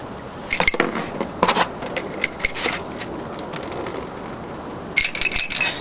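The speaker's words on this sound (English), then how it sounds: "swish that around in the carb cleaner." Small carburetor parts from a TS185 engine rattle and clink inside a can of carb cleaner as they are swished around, a close series of metallic taps and sloshes with short pauses between bursts.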